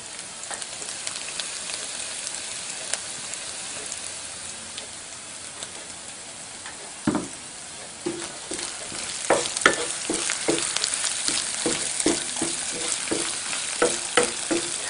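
Ginger, cumin seeds and asafoetida fry in ghee with a steady close sizzle, as sharp crackles and spoon-stirring clicks grow busier over time.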